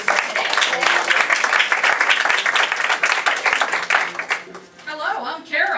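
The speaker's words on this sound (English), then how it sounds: "please give a A big round of applause to Mona and Carol," An audience claps steadily and loudly in a big round of applause for two masters of ceremonies, then the clapping fades out as a voice begins speaking.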